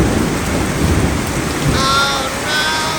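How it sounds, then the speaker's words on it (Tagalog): Heavy rain pours down in a dense, constant hiss, with a faint high ringing tone entering near the end. "look at the rain"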